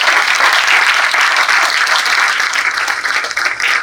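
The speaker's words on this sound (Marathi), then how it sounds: "आपण या सगळ्या मंडळीसाठी एकदा जोरदार टाळ्या वाजवूया" Loud, dense audience applause at a university felicitation ceremony for transgender community members, many hands clapping steadily and close, holding strong before easing slightly near the end.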